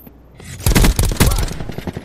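Stingray weapon firing in a shooter video game, a rapid stuttering burst of close, loud shots after a quiet start, trailing off into a few scattered cracks.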